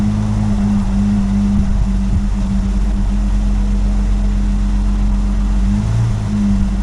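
A Rover P4 car engine runs with a steady low rumble and deep idle hum, holding loud and close with a slight dip near the end.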